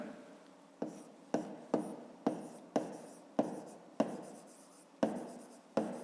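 A pen or pencil writes by hand while a 5th-grade maths exercise on a rectangle's perimeter is worked out, producing regular quick scratchy strokes, about ten in a row, close-up, with no voices.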